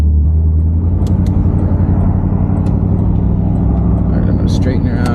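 Barn-find Buick that sat for years, driving on a small highway as it picks up speed toward 50 mph, with a steady loud low engine and road rumble throughout and faint higher clicks and rattles.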